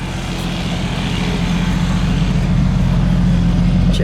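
A 1955 Hudson Hornet Custom four-door idles with a steady, low, rumbling exhaust drone, heard up close and loud with no talking.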